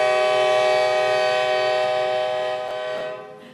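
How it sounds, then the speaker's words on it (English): A passing train sounds a long, steady horn blast that carries into a city council meeting room. The horn is loud and sustained, then fades out near the end, and no one speaks over it. "sounds like there's a train coming."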